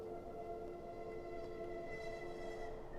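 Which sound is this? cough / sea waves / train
train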